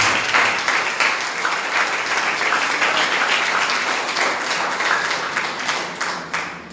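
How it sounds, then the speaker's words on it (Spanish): Sustained applause from a church congregation, steady and loud for the whole stretch, tapering slightly at the end. "Denle una ofrenda de palmas al Señor."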